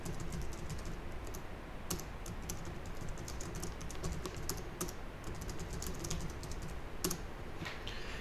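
Computer keyboard keys are pressed steadily while adding ideas to a MindView 5 mind map, with near, continuous typing clicks and a few sharper key strikes, and no voices.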